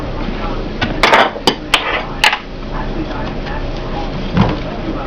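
Metal utensil scraping and clinking against a dish while prying the first slice out of a freshly baked sweet potato pie, several sharp knocks in a quick cluster, then quieter scraping as a person talks.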